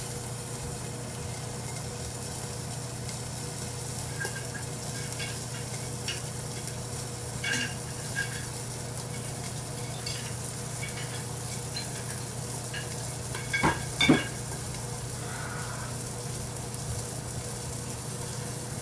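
A thick ribeye steak sizzles steadily in a hot pan, a constant bright frying hiss with a few soft clinks and a brief louder clatter near the end.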